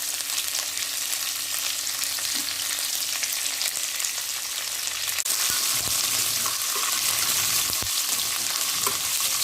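Mustard seeds, spices and curry leaves tempering in hot oil give a steady, close sizzle and crackle that runs throughout with no voices, a few faint stirring scrapes mixed in.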